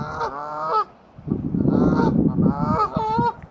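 Canada geese at a lakeside honk loudly and repeatedly at close range, in two bursts of nasal calls separated by a rough, noisy stretch of flapping or wind.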